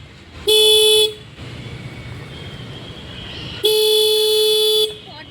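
A vehicle sounds its horn twice, two loud sustained toots separated by a few seconds of quieter traffic background.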